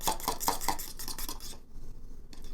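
A utensil scrapes and clatters rhythmically against a bowl while seasonings are stirred into avocado chips, several quick close strokes followed by a brief pause and one more scrape.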